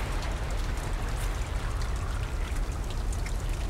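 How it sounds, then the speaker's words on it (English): Rising water in the video game Limbo makes a steady, dense pouring rush with a deep low rumble, continuous and loud throughout, with no voices. "Oh, the water is still rising."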